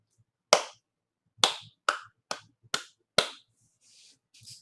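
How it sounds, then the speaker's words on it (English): Six sharp, separate hand claps in an uneven ta-ti rhythm, close and loud with short gaps between them, followed by faint soft rustling. "You try clapping and saying it."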